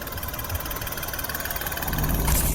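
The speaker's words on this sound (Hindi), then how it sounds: "ऑलराइट, तो ये इसका एग्जॉस्ट नोट है" An Alto K10 CNG car idles with a steady low engine rumble and a gently pulsing exhaust note that swells a little toward the end, with nobody speaking.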